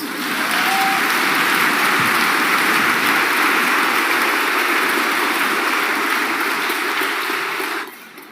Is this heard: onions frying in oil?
no